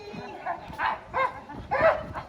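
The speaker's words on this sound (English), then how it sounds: "A puppy dog! Hello, puppy!" A puppy barks on a stage during a theatre show: a few short, soft yips in a quick run, moderately close.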